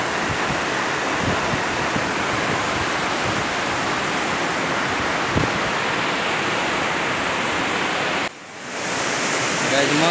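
River flowing below the MIDIM Bridge, a steady broadband rush of water that holds constant and close throughout, briefly dropping away near the end before returning.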